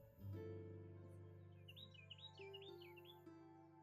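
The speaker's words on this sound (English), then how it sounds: "And that's a Carolina wren." A Carolina wren sings outdoors in a rapid series of bright, repeated chirping phrases, fairly distant and soft, over a low steady background hum, with no talking.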